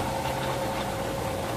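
A Toyota Altis with its engine running and shifted into drive gives off a steady, dense mechanical whine and drone from the transmission, continuous and unchanging throughout, with no talking.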